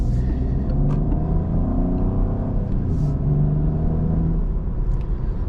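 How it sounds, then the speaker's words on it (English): A Peugeot 408 with the 1.2 PureTech 130 HP petrol engine, driven in sport mode on a country road, gives a steady, fairly loud engine drone and low rumble from inside the cabin, with no one talking. "So you can hear the petrol, a little bit more noisier in the sport mode."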